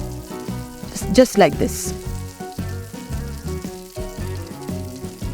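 Soya shami kebabs fry in oil in a pan, a faint, steady sizzle beneath a voice speaking and background music, with a brief clatter as the patties are turned.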